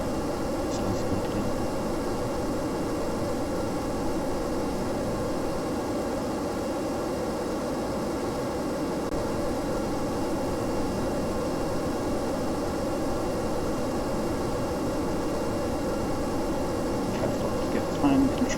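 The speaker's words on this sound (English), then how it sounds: "Try to get the engine started" Spaceplane jet engine running in Kerbal Space Program, a steady broadband roar that holds evenly throughout at moderate loudness, with no other sounds over it.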